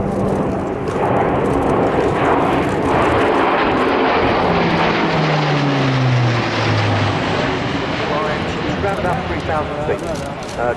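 An Airbus A400M military transport aircraft takes off and climbs steeply, its propeller engines giving a loud, continuous roar with a slowly shifting drone throughout.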